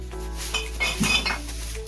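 Glass bottles clink and knock together in a handful of close, irregular chinks and rattles over a steady low background hum, with no speech.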